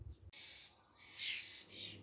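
Starlings call in a flower garden by an early cherry tree, giving faint, harsh, scratchy chirps in a few short bursts with no talk.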